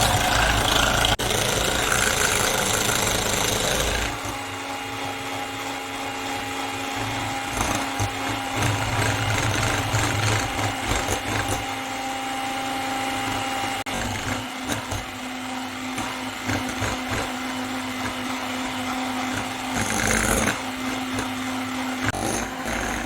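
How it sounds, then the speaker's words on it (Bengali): An electric beater whips cream at medium speed for a Black Forest cake, giving a steady, loud motor whir that runs alone and unbroken through the whole stretch. "হুইপ ক্রিমটাকে ইলেকট্রিক বিটারে মিডিয়াম স্পিডে 10 মিনিট বিট করে নেব"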